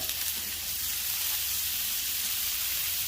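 Pickled jalapenos and diced onions sizzling in butter on a flat top cast iron griddle, a loud, steady, bright hiss running unbroken and close with no voices.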